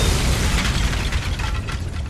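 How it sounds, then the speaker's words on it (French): A deafening blast with dense low rumble and crackling debris fills the whole stretch, loud and sustained rather than a single clean boom, with no voices over it. "une explosion assourdissante retentit et projette en l'air violemment toute la terrasse sur plusieurs mètres"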